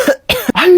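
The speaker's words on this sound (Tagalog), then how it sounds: "Hala, inuubo ka ba, nak?" A young child coughs at close range, with three short, harsh bursts in quick succession, each followed by a brief catch of breath.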